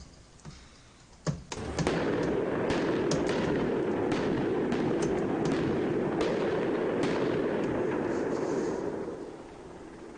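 Loud booms from military training near a university area at night, a few sharp cracks then a sustained dense rumbling roar of repeated blasts lasting several seconds before fading.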